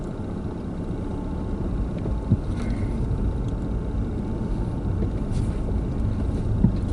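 Interior of a car driving along, a continuous low engine and road rumble with faint occasional knocks, steady and close.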